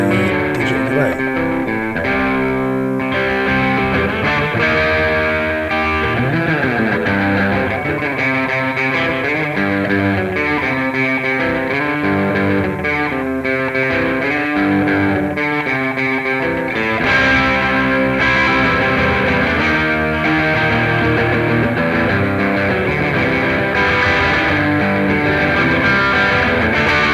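An electric guitar played through a distortion pedal on a pedalboard alongside a digital delay, producing a thick, saturated stream of chords and notes that rings continuously and loudly throughout, with no talking.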